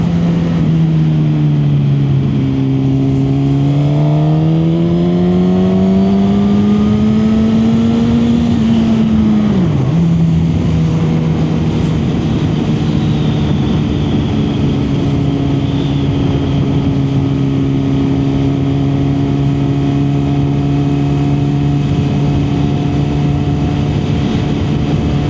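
A 1000cc motorcycle engine drones loudly while riding on an open road, mixed with wind rush. Its pitch climbs, dips around a gear change and then settles into a steady cruise.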